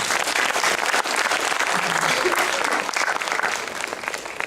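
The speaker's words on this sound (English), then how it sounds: "Let us put a round of applause to them." An audience at a valedictory session applauds the event's volunteer team, a dense, steady burst of clapping that holds at an even level and eases slightly near the end, with faint voices mixed in.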